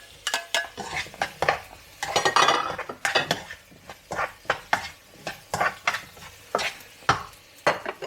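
Vegetables sauté and get stirred in a pan while ox tongue is being cooked, with repeated scraping, clinking strokes of a utensil against the pan over a faint sizzle. The strokes come in an irregular rhythm, close and fairly loud, and no one speaks.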